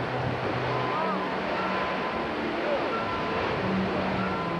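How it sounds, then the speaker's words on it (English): Grand Geyser at Yellowstone erupting in powerful bursts, a dense, continuous roaring wash of rushing water, loud and steady throughout, with a voice faintly talking underneath. "Grand begins with a long series of powerful bursts that can last several minutes."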